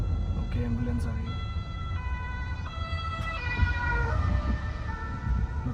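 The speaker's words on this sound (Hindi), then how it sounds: "ओके, एम्बुलेंस आ गई।" An ambulance siren wails with a rising and falling tone, approaching from behind on a German autobahn, heard from inside a moving Mercedes A-Class sedan over steady road and engine rumble.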